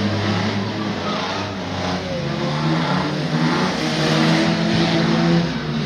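A race car engine at full effort during a race, a loud, continuous roar that rises and falls slightly as the car accelerates. Close and dense, with no break and no clear voice over it.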